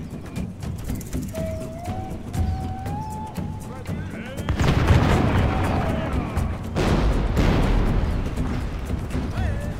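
Cannon artillery fires in a Medieval II: Total War Americas battle, with heavy booming blasts and a rumbling roar under continuous battle noise, faint fighting sounds and background voices.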